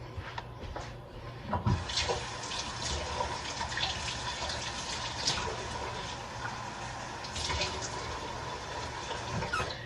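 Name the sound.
tap water filling a measuring cup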